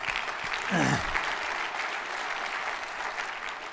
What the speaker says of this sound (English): Let's give Mark another big round of applause, please.